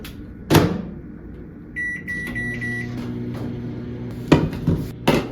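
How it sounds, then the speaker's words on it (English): Microwave oven heating a Korean rice ball: a few door and button clunks, a beep, then the steady hum of the oven running, close and quiet. "put it in the microwave for 1 minute and 20 seconds"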